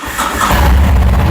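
A Harley-Davidson Fat Bob 114 fitted with an S&S exhaust cranks and fires up, its deep rumble quickly building into a loud, steady idle close by.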